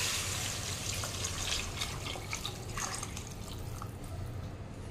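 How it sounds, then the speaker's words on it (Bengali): Measured water, twice the amount of the rice and lentils, being poured into a cooking pot for Bengali bhoger khichuri, a steady hissing splash with light dripping, fairly soft and continuous throughout. "সেই জলটা আমি এবার দিয়ে দিচ্ছি"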